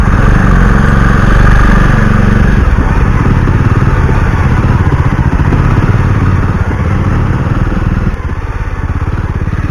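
A motorcycle rides along a muddy forest road, its engine loud and close with a steady, continuous drone for the whole stretch and no voices over it.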